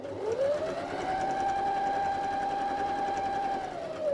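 A sewing machine stitching fabric for a zipper bag, motor whirring up to a steady high hum and holding for a few seconds before winding down, close and alone.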